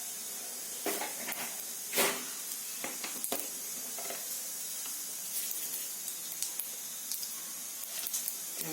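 Mustard seeds splutter in hot oil for a moong dal gravy, a steady hiss broken by sharp popping crackles that come irregularly throughout, close and fairly loud, with no talking.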